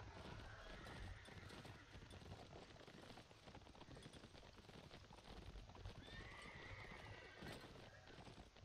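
Horse hooves clip-clop at a rapid gallop and a horse neighs in the Mount & Blade Warband video game, a dense steady rumble of hoofbeats with loud whinnies over faint background noise.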